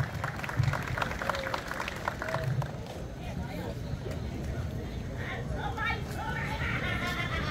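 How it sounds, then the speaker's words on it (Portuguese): Audience applause at a ceremony marking the 62nd anniversary of Ouro Branco's political emancipation: steady, dense clapping that runs the whole stretch at an even level, with some crowd murmur beneath it. "Uma salva de palmas"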